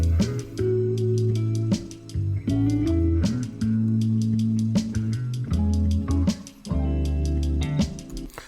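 A hip-hop beat, made on an MPC-like sampler, rolls along with a deep bass line, punchy sampled drums and a crisp ticking shaker, full and loud with no voices.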